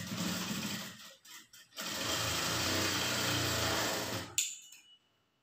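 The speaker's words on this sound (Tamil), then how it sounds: "ஃபர்ஸ்ட் 1/2 இன்ச் விட்டுட்டு 1/2 இன்ச் அளவுக்கு தையல் போட்டுக்குங்க." A sewing machine runs steadily while stitching a blouse seam, a close mechanical whir that stops briefly after a second, resumes for a few seconds, then ends with a small click.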